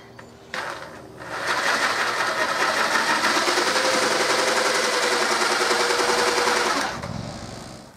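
A power drill bores a hole through the wooden armrest of an Adirondack chair to fit a cup holder, a loud steady whine running continuously for about six seconds after a short start, then stopping.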